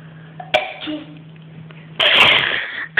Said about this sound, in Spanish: batir el récord de estornudos.